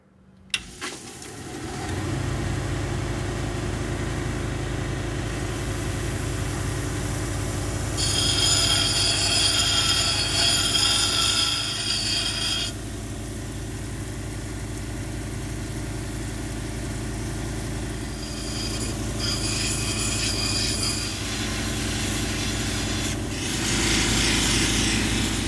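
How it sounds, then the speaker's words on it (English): Rock grinder spinning up and grinding a Petoskey stone on a beach outing, a steady loud droning whir throughout with a harsher scraping band in the middle and near the end as the stone is pressed to the wheel. "let's turn on the grinder and find out"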